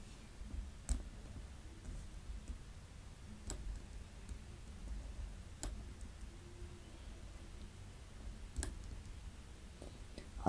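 Sparse mouse clicks on a computer, a handful of sharp isolated taps spaced a few seconds apart over a low steady room hum, with no talking.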